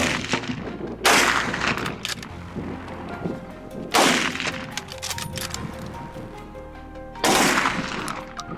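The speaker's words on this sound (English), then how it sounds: "I raised my rifle, timed my shot, and squeezed the trigger. A volley of shots rang out." Three loud rifle shots fired at a fleeing wild boar during a hunt, each a sharp blast with a long rolling echo, spaced about three seconds apart, close by.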